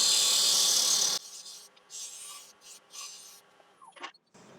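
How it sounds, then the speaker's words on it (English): A skew chisel cuts a wooden egg shape spinning on a lathe, starting with a loud, steady scraping hiss that drops off sharply and turns into quieter, intermittent light cuts and rubs. "I'll just refine the shape a little bit with the skew"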